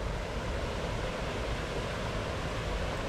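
The Los Huenchos waterfall in Calvillo, Aguascalientes, a steady broad rushing roar of falling water, loud and close, with some wind buffeting and no talking.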